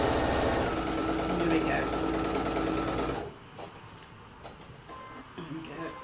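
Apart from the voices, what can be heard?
sewing machine sewing near a zip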